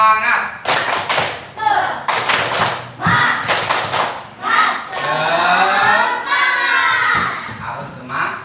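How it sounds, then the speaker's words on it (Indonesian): A group performs the tepuk semangat, a rhythmic spirit clap, at a gathering: sharp bursts of claps in a patterned sequence give way to a loud, sustained stretch of cheering and shouting voices, fairly close. "Tepuk semangat."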